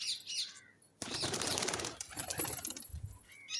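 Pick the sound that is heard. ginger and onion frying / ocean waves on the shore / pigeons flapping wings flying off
pigeons flapping wings flying off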